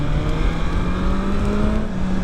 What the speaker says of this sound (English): Once you get the revs up and the engine comes alive